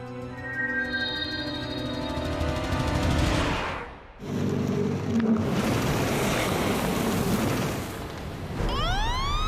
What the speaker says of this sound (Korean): 여기서 꺾어 보면 아, 아 파도가 좀 치네. 너울이 있네.